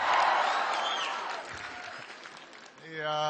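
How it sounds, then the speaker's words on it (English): Audience applause and cheering from a school crowd at a political rally fill the space loudly, then taper, with a voice cutting in at the end. "I know that's why you're cheering."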